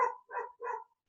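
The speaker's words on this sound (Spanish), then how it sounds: "Estos perros realmente le ladran a los perros del frente, de mis vecinos." Dogs barking at the neighbours' dogs across the street, three quick barks in a row, fairly distant and moderate in level, with no talk.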